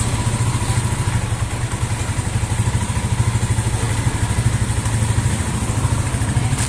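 A Rusi TC 125 motorcycle engine runs steadily, a close, loud, even mid-pitched thrum with rhythmic clatter throughout, no gaps or revving.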